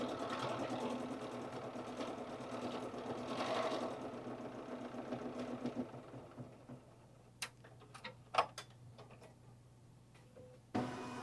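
An embroidery machine stitches a bumblebee border on a quilt with a steady, rapid mechanical chatter that fades after about six seconds, followed by scattered clicks and taps.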